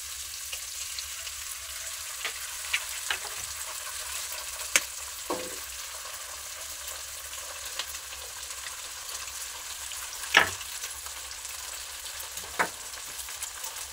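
Eggs frying over lightly fried onions in an oiled pan, with salt and turmeric added, give a constant soft sizzle and a few sparse spatula taps, close and steady, without voices.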